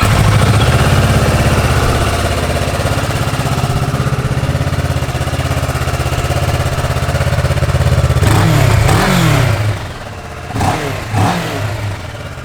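A 2016 Kawasaki Ninja 650 ABS motorcycle engine runs loud and close at a steady idle with light revs, then shuts off and winds down into quieter sputters near the end.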